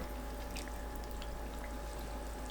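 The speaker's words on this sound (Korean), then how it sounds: "뜨거운 상태 그대로 파레 위에 부어주시면 돼요" Hot pickle brine of vinegar liquid pours steadily over sea lettuce (parae), making a continuous close splashing stream with no pauses and no talk.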